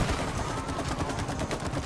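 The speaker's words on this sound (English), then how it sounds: "Just keep shooting." Rapid gunfire from the co-op video game It Takes Two, a dense, steady stream of shots filling the whole stretch at close range with no pauses.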